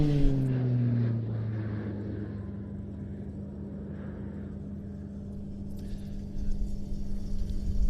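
An aerobatic airplane at an airshow dives in toward the spectators, its engine a steady droning rumble with a falling pitch as it passes, then a rougher surge near the end.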